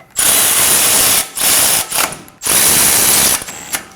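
A power tool whirs in bursts to snug the brake caliper bracket bolts on a 2017-2024 Nissan Armada, with three loud close runs separated by short pauses and ratchety clicks.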